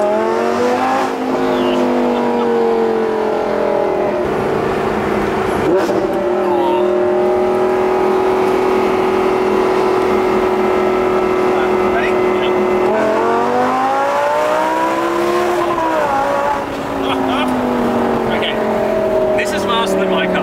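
A loud straight-piped Audi RS3 revs hard with exhaust valves open and holds a high, rasping drone, rising and falling in pitch with gear changes over its full length.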